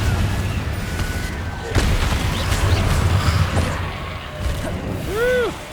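The Confringo explosive spell goes off in the video game Hogwarts Legacy, bringing sharp booms and crashing impacts amid combat noise, with rising magical whooshes near the end.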